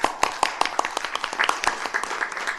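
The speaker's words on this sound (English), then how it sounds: "if we would just acknowledge her today with a hand clap" At a city council meeting, the audience gives a young lady a round of hand claps, a brisk run of steady claps from several people in the room, moderately loud and close.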